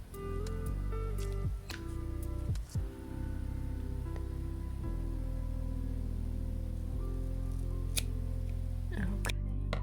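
Scissors cut the cord ends of a macrame bracelet in a few quick, close snips, with soft handling noises and a steady background hum between them.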